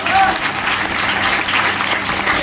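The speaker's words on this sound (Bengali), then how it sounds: "ওদের জন্য জোরে হাততালি হয় না?" An audience claps loudly for top-ranked students at a school gathering. The applause is dense and steady for the whole stretch, with a faint murmur of voices mixed in.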